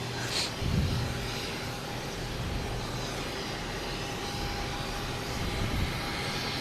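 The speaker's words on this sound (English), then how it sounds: "So JetBlue from Austin, Texas." A JetBlue airliner arriving at Boston Logan Airport from Austin, Texas gives off a steady, fairly distant engine rumble at low level, with a few brief bumps of nearby noise.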